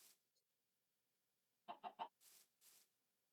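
Chickens in Minecraft Bedrock Edition give three quick clucks followed by two softer shuffling sounds, short and clear over near silence.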